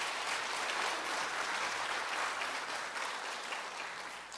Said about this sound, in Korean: 우리 이 학생들 위해서 크게 박수 쳐주시면 감사하겠습니다.